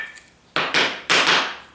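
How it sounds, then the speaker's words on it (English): Four sharp knocks in two quick pairs as a hammer strikes a small block of wood set on brick pavers, each hit crisp and close with a short ringing decay. "I got a little block of wood and my hammer."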